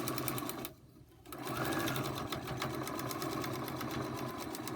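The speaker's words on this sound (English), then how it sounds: "I'm going to go sew that line from dotted line to dotted line." A sewing machine stitches a line along a fabric trim line, a rapid, even mechanical chatter close by that stops briefly near the start, then resumes and runs steadily to the end.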